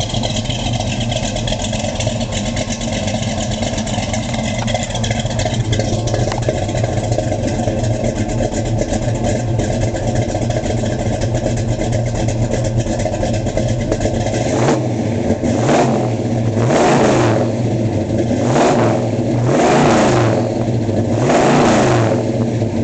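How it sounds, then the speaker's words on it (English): A 1972 Chevrolet C-10 Super Cheyenne short bed with a slight cam idles with a steady lope through dual exhaust, then gets several sharp revs in quick succession, loud and close with no talk. "It's got a nice little lope, just a slight cam in it. Let you hear it. Real nice tone out of the dual exhaust."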